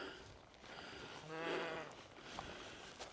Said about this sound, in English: Some sheep in the field.